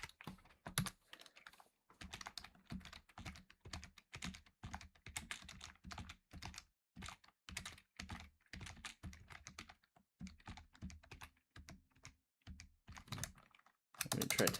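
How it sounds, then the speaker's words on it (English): Rapid typing on a computer keyboard, dense irregular bursts of key clicks with brief pauses, close and fairly quiet, with no talking. "Let me try typing that line again."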